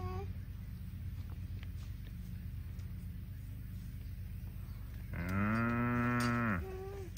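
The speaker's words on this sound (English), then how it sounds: "Cows." Cattle mooing on a farm, one long loud bellowing moo near the end of the stretch over a steady low rumble, with fainter calls earlier.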